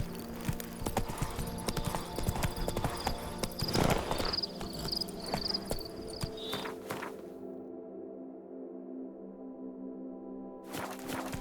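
Roach, a horse in The Witcher 3 video game, trots with rhythmic, clear clip-clopping hooves for several seconds against a busy ambient bed, then the sound thins and quiets before a brief return.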